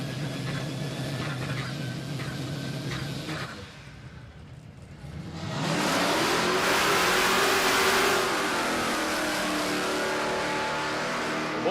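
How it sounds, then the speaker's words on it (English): A turbocharged Barra-engined Ford BA Falcon wagon at a drag strip idles roughly, drops briefly, then revs hard into a loud sustained engine roar as it builds boost, with faint talk underneath. "That's the BA Falcon wagon,"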